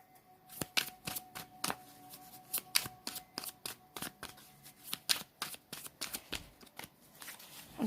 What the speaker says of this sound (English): I'm going to shuffle this way, like I did those.